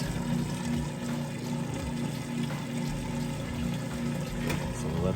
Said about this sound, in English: that drain working nice and fast